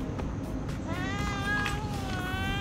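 A cat at a Genting Highlands stop meows in a few drawn-out, wavering cries close by, over steady background noise with little talk.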